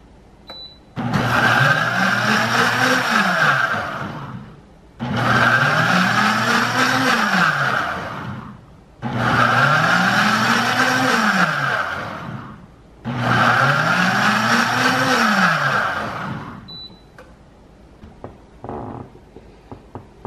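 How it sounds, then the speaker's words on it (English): A countertop blender whirs loudly through peanut butter cold brew in four long bursts of several seconds each, with short pauses between and a few quiet clicks after. "we'll go ahead and blend it until we feel like it's all the way blended"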